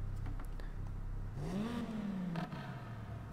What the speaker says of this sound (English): Oh, a little blip of the throttle.